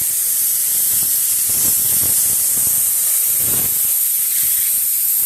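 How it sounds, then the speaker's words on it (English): A hand-held spray gun loaded with glue sprays in a steady, loud hiss, with a few surges and short pulses as the trigger is worked, close up and alone, during a bias-cut fabric binding job. "a glue gun or a spray gun with some glue in it."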